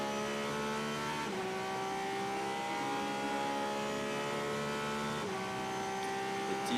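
A race car at the 24 Hours of Le Mans, driven by Indian driver Arjun Maini, holds a steady high engine whine with gear changes near one and five seconds, under continuous background noise.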